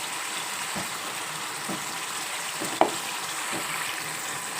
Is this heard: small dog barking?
no